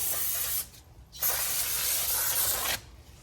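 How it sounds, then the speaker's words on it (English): Brake cleaner sprayed onto new brake rotors from a 2007 Mitsubishi Galant, two close, loud hissing bursts, the first short and the second longer, separated by a brief pause. "You can spray it off with brake clean"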